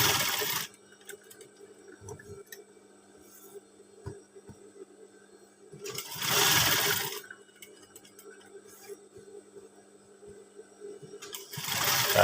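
A sewing machine stitches a school uniform pocket in three short bursts of rapid whirring, each separated by quiet pauses with faint clicks and handling noises, and no talking.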